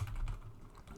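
Short burst of typing on a computer keyboard during a C++ programming lecture, a few quick soft key clicks, close and faint, with no talk.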